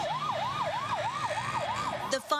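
A fire engine siren wails in a rapid repeating yelp pattern, loud and close with steady rhythmic rises and falls, ending in a burst of harsher noise.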